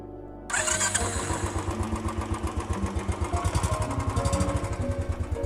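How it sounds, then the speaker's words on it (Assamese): A motorcycle engine starts at night, a short starter whir followed by the engine catching and settling into a steady, close, loud chugging idle with no talking. "সৌৰভে বাইকখন ষ্টাৰ্ট দিলে"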